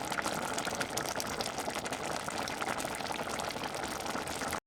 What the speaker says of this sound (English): Hear that gentle bubbling? That's a pot of water boiling.